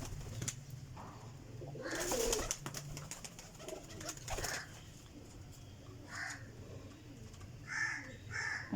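Several flying pigeons kept for sale, a group of twelve birds, coo in low repeated murmurs with scattered sharper calls nearby, steady throughout.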